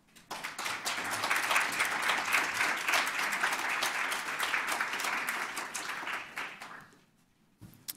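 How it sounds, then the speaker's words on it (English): A conference audience gives a sustained round of applause welcoming Dr. Howard to the stage, dense clapping rising quickly, holding steady for several seconds, then tapering off into near silence. "please give Dr. Howard a round of applause"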